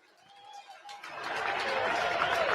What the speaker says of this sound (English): Give her a round of applause, everyone.